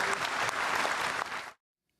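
Audience applause at a South Korean military farewell ceremony for the outgoing Chairman of the Joint Chiefs of Staff, a loud, dense burst that cuts off abruptly after about a second and a half, leaving silence.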